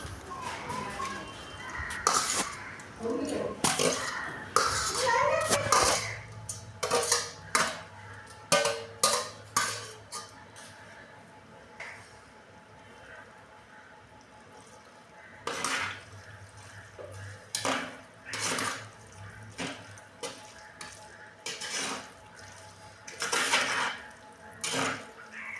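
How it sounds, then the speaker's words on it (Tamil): Prawns stirred into a curry mixture in a pot, with a spoon clinking and scraping against the metal in bursts, the taps coming close and sharp before quieter stretches. "இப்போது அதை நாம் நம்மட அந்த வதங்கிட்டு இருக்கிற கலவைக்குள்ளே சேர்த்து நல்லா கலந்து விடுவோம்."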